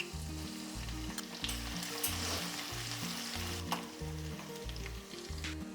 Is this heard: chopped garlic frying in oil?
yes